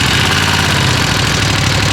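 Ducati V2 motorcycle with its stock exhaust, a 120 hp bike, starting from lukewarm and running in a loud, close, steady idle with a rough, pulsing rumble.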